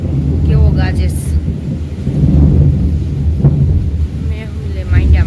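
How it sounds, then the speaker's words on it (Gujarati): Loud thunder rumbles and rolls over a steady, gently falling monsoon rain. The thunder is close and continuous, with a voice briefly audible underneath. "જો ધોપ ધબાટી ગાજે છે."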